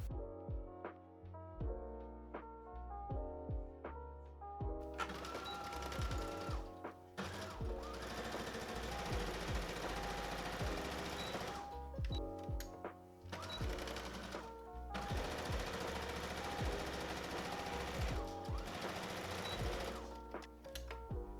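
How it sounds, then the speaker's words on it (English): A sewing machine stitching the side seams of a sundress, a fast steady whirring chatter near and loud, running in several bursts with short pauses between. "I'm going to sew the backs to the front down either side seam."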